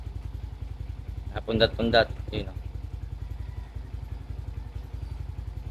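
A Suzuki Shooter FI 115 motorcycle idles close by with a steady, rapid, even putter throughout, while someone speaks briefly over it near the middle.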